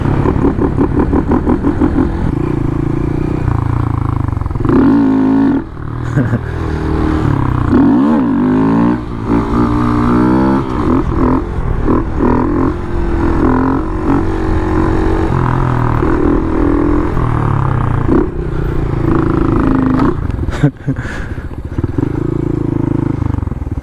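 Honda Grom motorcycle engine droning loudly and continuously close by, its pitch rising and sagging as it revs and bogs down, with wind buffeting throughout.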